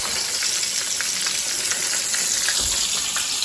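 A pork chop fries in a pan, giving a continuous close sizzle scattered with small pops and crackles, and no one speaks.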